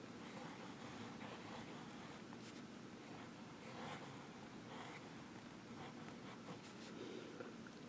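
A Fuliwen 015 fountain pen is pressed firmly onto paper while writing, producing faint, continuous scratchy strokes with small bursts of friction and no talk.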